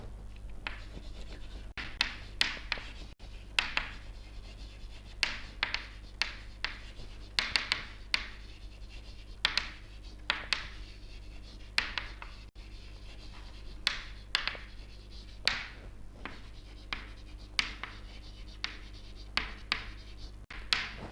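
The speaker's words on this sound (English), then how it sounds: "So, that I am going to write here." Writing on a board during a lecture: steady rhythmic scratching strokes in short bursts, close and fairly quiet, over a low constant hum, with no talking.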